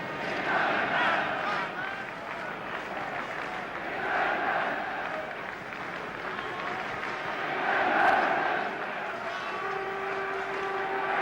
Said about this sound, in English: The crowd really getting behind England